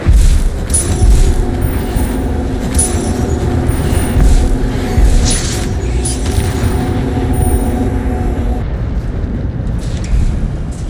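Repeated Incendio fire spells cast in the Hogwarts Legacy video game on PC, with several heavy booming blasts over a steady rumbling roar, loud and close, then easing near the end.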